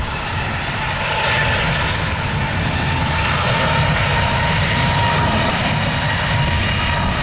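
Breeze Airways flight 244 departing RSW for Charleston, South Carolina, its jet engines roaring in a loud, steady broadband wash with a faint rising whine, holding strong and continuous throughout without talk.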